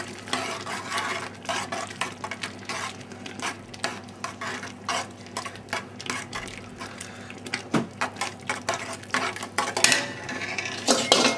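Utensils scrape and clatter steadily against a pot while pasta is stirred and seasoned, a close, busy run of metallic knocks and scrapes with a faint sizzle underneath and no talking.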